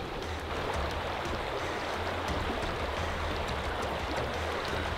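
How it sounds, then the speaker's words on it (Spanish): A shallow, slow-moving river in Vernonia, Oregon, flows in a steady, close, rushing wash with no breaks and no voices. "Pues no lleva mucha corriente este río."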